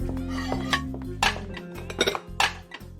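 Dishes brought out in a video game: a close, busy clatter of plates, pots and cutlery, with several sharp clinks and knocks of ceramic and metal over a low steady hum.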